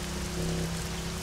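Steady rain hiss falling across an ARMA 3 battle royale map, a continuous even wash of drops with a faint low hum underneath, no voices.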